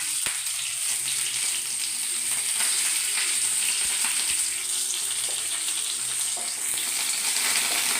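Dried red chillies and curry leaves fry in hot oil in a pan for a Kerala raw banana curry, giving a steady close sizzle with occasional scrapes from stirring.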